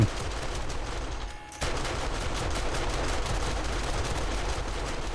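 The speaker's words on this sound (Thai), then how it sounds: "แต่กระสุนป้อมปืนเราแม่ง รัวมาก" Automated gun turret in the video game 7 Days to Die firing in a fast, continuous rattling burst, loud and close, with a brief dip in the stream before it resumes at full pace.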